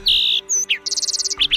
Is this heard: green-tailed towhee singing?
yes